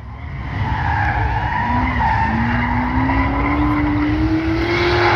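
An LS3-powered, Holley EFI-equipped Subaru Brat skids during a Brap exhibition at LS Fest East, its engine and tire noise a loud, continuous roar with a rising engine pitch throughout.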